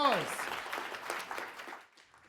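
Audience applause after a debate speech on machine learning and optimisation, a burst of many hands clapping that starts fairly loud and fades out over about two seconds, with a voice briefly heard at the start.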